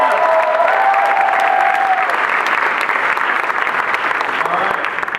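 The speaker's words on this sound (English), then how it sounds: "How about another round of applause for the courage of our first three speakers?" Audience applause for speakers at a live talk event, loud sustained clapping with a cheer and some voices over it, gradually thinning toward the end.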